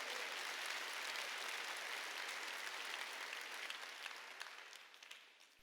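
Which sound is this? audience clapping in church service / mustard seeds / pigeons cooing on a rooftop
audience clapping in church service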